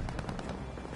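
Rapid bursts of automatic gunfire in the shooter video game Call of Duty Vanguard, a dense rattle of shots that are loud and close, with no voices over them.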